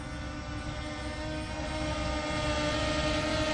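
An S132 GPS drone flies nearby with a steady, even buzzing whine of its propellers that holds at constant volume and swells slightly toward the end, with no talking.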